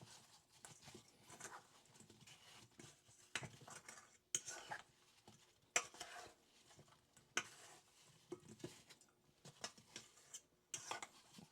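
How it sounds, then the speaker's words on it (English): Apple pie filling of sliced apples, vanilla and flour being stirred in a bowl, quiet irregular clinks and knocks of a utensil against the bowl with soft wet shuffling between strokes. "I'm going to go ahead and mix this up."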